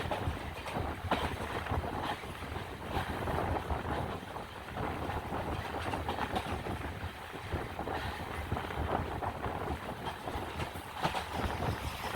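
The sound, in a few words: wind rushing past a fast moving express passenger train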